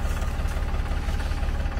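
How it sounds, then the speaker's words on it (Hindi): A Farmtrac 45 tractor engine runs while hauling a heavy 60-quintal trolley, giving a steady, loud, low rumbling drone throughout with no talk over it. "देखो जी अब आपको पता चलेगी ट्रैक्टर की ताकत और ट्रैक्टर की रेस।"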